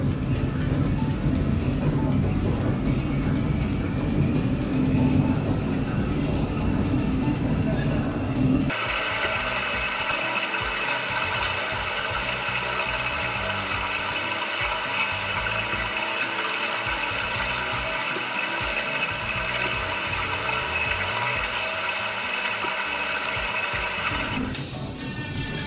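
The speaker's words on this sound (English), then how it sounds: "Drive the wheels at the speed around 25 kilometers per hour and maintain for a while." A bicycle wheel with a TPU inner tube spins at about 25 km/h on a brake heat test rig, producing a loud, continuous mechanical roar and hum that shifts in tone partway through and runs without talking.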